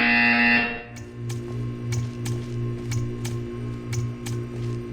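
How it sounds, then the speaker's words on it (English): Portal 2 buzzer: a loud electronic tone with stacked harmonics sounds for under a second at the start, then a steady low hum continues, ticked by sharp periodic clicks about twice a second. "You will hear a buzzer."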